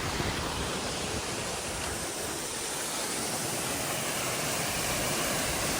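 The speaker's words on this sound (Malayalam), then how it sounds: "അടിപൊളി വെള്ളച്ചാട്ടമാണ് എന്താ വെള്ളം താഴോട്ട് പോകുന്നു" The Rock Garden waterfall in Darjeeling roars as a dense, continuous rush of falling water, loud and steady throughout with no voices.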